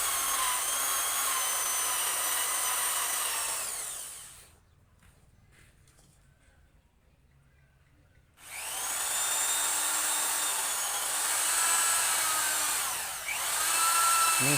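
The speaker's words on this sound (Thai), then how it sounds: "เฮาก็เจาะ2หู" A power drill bores holes through a bamboo cup, a loud high whine for several seconds, a pause, then drilling again with the pitch sagging as the bit bites in.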